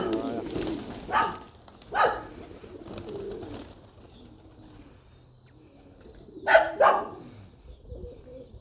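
Pigeons coo softly in a quiet space, with a few brief louder bird calls or flutters breaking in near the end.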